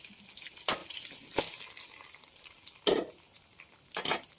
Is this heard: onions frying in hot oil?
yes